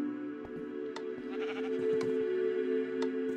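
Sheep bleat in a video game, several short, clear bleats arriving about once a second over a constant droning game-music background.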